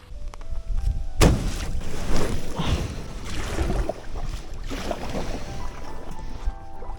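A packraft is paddled across a reed-fringed lake during a wild camping trip: close, sloshing water and splashes from the strokes, with gusty wind buffeting the microphone.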